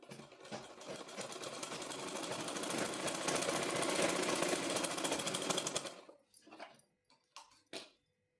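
Sewing machine stitching a seam on palazzo pants, running in one steady rapid mechanical whirr for about six seconds before stopping, followed by a few short clicks and bursts.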